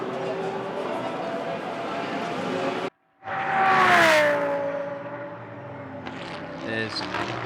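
A GT race car in free practice at the Moscow round of the Blancpain Sprint Series pulls away with wheelspin, a loud rising engine note sweeping up and settling into a steady drone after a brief dropout, with commentary over it.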